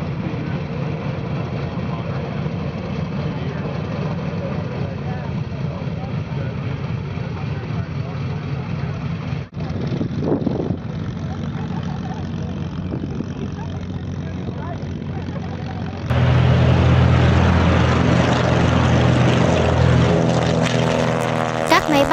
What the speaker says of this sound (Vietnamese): Khởi động của Tiger Cat thật ấn tượng.